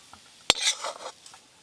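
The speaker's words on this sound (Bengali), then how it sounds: "একটু ভালো করে চাড়িয়ে দেবো" Spiced potato filling for Bengali egg devil being stirred in a pan: a sharp metal clink of a spoon against the pan, then a few soft scraping, shuffling strokes, close by with no talking.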